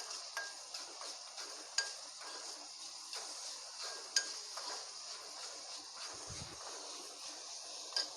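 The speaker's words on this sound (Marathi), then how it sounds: "तेल छान गरम झालं आहे या ठिकाणी कांदा ॲड करून फ्राय करून घेते आहे" Chopped onion frying in hot oil in a pan: a faint, steady high hiss runs throughout, dotted with occasional light metallic clinks of a utensil against the pan.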